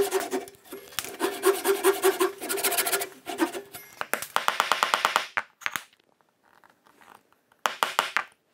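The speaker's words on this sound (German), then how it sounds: "Und wir haben die Mitte grob ausgesägt." Hand saw roughly cutting out the waste between dovetail pins in a wooden board, a close, rasping back-and-forth stroke repeated steadily for about five seconds, then a few short scrapes separated by pauses.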